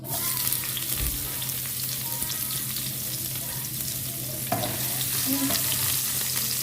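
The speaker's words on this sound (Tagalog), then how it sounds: "Igisa natin ang onion at garlic." Onion and garlic sauté in hot cooking oil, a dense, close, steady sizzle with occasional soft stirring scrapes, continuous throughout and free of speech.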